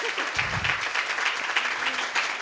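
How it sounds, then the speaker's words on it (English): Dense applause fills a students' union election results event, a steady crowd clapping throughout at close range with no voices over it. "let's have a massive round of applause and a little bit of a whoop"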